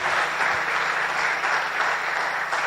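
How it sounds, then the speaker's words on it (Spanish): A church congregation bursts into sustained applause during a Spanish-language Easter service, a thick, even roar of clapping hands filling the room without a break. "Denle un buen aplauso al Señor."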